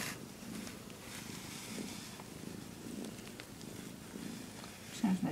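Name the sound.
cat purring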